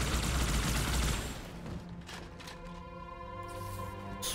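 Dual-wielded plasma rifles in the Halo 2 video game fire in a rapid, continuous stream of crackling shots, loud and dense at first, then thinning out under the ongoing game sounds.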